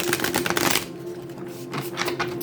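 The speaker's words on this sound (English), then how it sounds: "I heard I need to shuffle it 3 times on camera" Tarot cards shuffled by hand in a quick riffling burst, then a short pause and another softer patter of cards, close and alone with a faint steady hum beneath.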